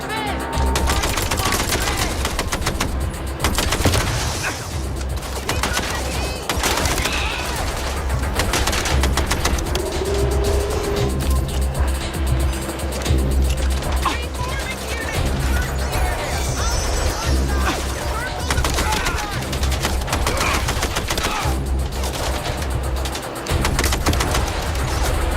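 Sustained gunfire from the MindsEye video game, with loud, dense shots and bursts running throughout alongside crashes, under the game's steady background mix.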